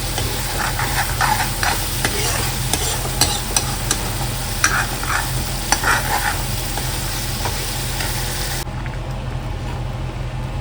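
Tomato masala sizzling steadily in a hot pan, with the scrape and clatter of a spoon stirring through it, close and continuous until it suddenly cuts off near the end.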